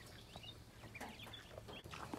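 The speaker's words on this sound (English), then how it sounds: "You silly chicken." A backyard chicken clucks softly in short, scattered calls, faint and somewhat distant over steady low outdoor background noise.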